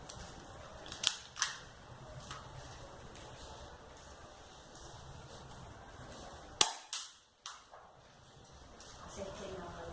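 Shots from an airsoft gun fired at a target outdoors, a few sharp snapping pops spaced apart, two near the start and a cluster of three later, over steady background ambience.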